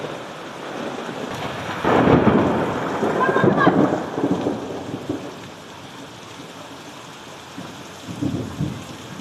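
A thunderstorm with rain: steady rainfall hisses throughout while a deep, loud rumble of thunder swells and rolls for several seconds, followed by a fainter rumble near the end. No one speaks.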